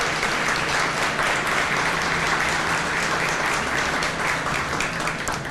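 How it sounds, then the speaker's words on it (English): A luncheon audience at a county State of the County program gives elected officials a round of applause, a dense, steady clapping that fills the room with no talking. "give them another round of applause for me"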